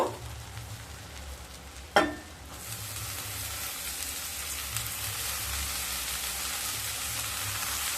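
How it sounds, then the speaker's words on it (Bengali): Spices frying in a pan, then chopped Malabar spinach tossed in: a quiet hiss, a sharp clatter near two seconds, then a broad, steady sizzle that continues to the end. "মশলাগুলো যখন খুব ভালোভাবে ভাজা ভাজা হয়ে যাবে সেই সময় কেটে রাখা শাকগুলোকে দিয়ে দেব।"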